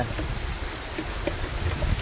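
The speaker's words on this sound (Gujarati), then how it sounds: "ફૂલ વરસાદ આવી ગયો" Heavy rain pours down on a rooftop terrace in a continuous dense hiss, with scattered drops pattering loudly on a nearby surface.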